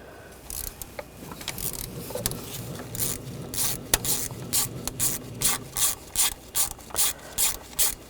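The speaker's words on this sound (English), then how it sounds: "We're going to use an E10 socket." Ratchet wrench with an E10 socket loosening Torx bolts on the coolant water outlet of a 2013-2022 Buick Encore, sparse clicks at first, then a steady run of rhythmic ratcheting bursts, close and fairly loud.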